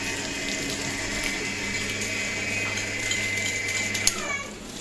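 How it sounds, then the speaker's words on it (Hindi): Water runs steadily out of a filled water tank at home as the pump motor is about to be switched off, a continuous close rushing flow with a faint mechanical hum beneath. "वो देखे पानी निकल रहा है।"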